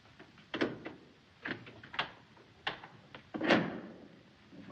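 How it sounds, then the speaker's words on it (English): Door opened in a 1937 film scene: a series of clicks, knocks and scraping latch sounds close by, clattering irregularly over several seconds without speech. "Max, open the door."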